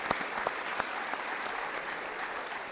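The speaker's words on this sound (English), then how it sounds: "If we can just give them a round of applause for that." An audience at the World Football Summit Asia 2023 main stage applauds a panel, with dense, even clapping from a hall crowd and a few sharper claps standing out near the start.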